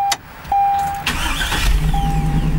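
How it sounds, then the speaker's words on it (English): A Hummer with a new 1,000 cranking amp battery cranks briefly after a couple of short electronic chimes, then catches and settles into a steady low idle, close and loud. "car starts right up, no problems at all"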